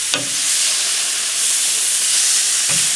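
Thin steak sizzles loudly and steadily in a hot pan, a dense crackling hiss with a couple of soft clatters at the start and end.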